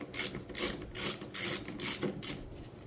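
A ratchet works an 8mm bolt on the HVAC box of a 1997–2001 Jeep Cherokee XJ, giving six evenly spaced bursts of close, crisp pawl clicking with a faint low rumble between strokes.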